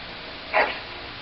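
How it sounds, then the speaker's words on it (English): A single short bark comes from a noble hunting dog in the Dragon Age video game. It rises briefly over a steady background hum, with no speech. "That is a wonderful dog."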